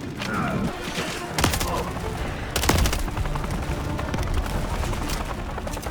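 Gunfire in Call of Duty Modern Warfare 3, rapid automatic bursts with a couple of sharp, heavier shots standing out, close and loud over a continuous battle din.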